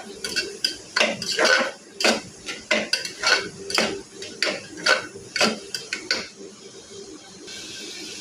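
Onions stirred in a metal pan for chicken curry: a loud, close run of rhythmic spoon-on-pan clatters and scrapes, about a dozen strokes, then quieter at the end, with no speech.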